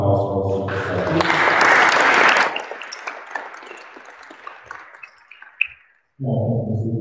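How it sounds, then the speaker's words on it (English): Applause at a school Transition Year celebration evening, loud and full at first, then thinning into scattered claps that fade out; speech resumes at the end. "a round of applause for us all this evening"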